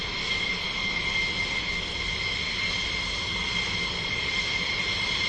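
An F-16D fighter jet's engine runs steadily at an air show as the crew readies to taxi out, a loud, continuous whining roar with a sustained high-pitched tone.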